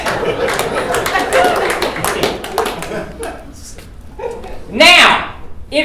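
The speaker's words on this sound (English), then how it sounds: "Y'all can clap for that." A comedy club audience at a stand-up show bursts into scattered clapping mixed with laughter, a brief ragged patter of hands under the comedian's ongoing talk.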